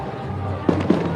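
Two distant fireworks pops, fired from a ship at the Main riverbank festival in 2025, land in quick succession over a low, steady background murmur of an outdoor crowd.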